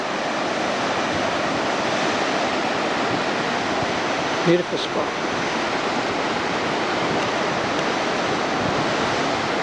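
Southern Ocean surf breaks on a Tasmanian coast in a loud, continuous wash of wave noise, with a brief spoken remark partway through.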